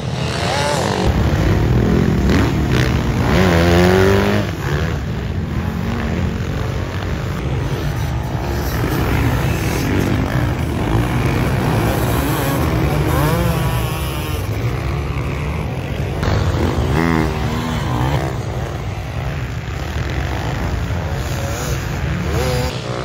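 Yamaha 250 YZF motocross bikes race around an amateur championship track at Loon Plage, engines revving and whining loudly with rising and falling pitch as they pass close by, under a faint commentary voice.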